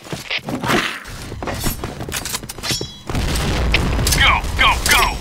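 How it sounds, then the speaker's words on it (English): A grenade is thrown and explodes in the video game Point Blank, with clattering mechanical sounds and thumps giving way to a loud, sustained blast roar while voices call out over it. "Fire in the hole!"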